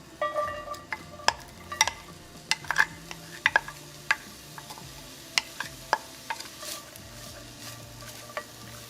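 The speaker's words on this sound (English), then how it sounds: "we're going to start sauteing our onions for about 2 to 3 minutes until you see them go translucent" Onions sauteing in oil in a hot pan for macaroni and cheese, a soft steady sizzle broken by sharp clicks and scrapes of a utensil stirring, close and with no talk.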